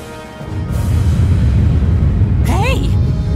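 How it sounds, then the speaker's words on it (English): An earthquake rumble in the video game Drakengard 2: a deep, loud, sustained roar swells in after a quieter start and holds steady, with a brief rising whistle-like sweep over it near the end. "What was that? An earthquake?"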